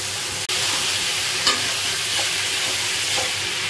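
Potato and dried fish roe frying together in a pan, a continuous sizzle broken by a sharp clack at the start and a couple of light stirring scrapes, with no talking.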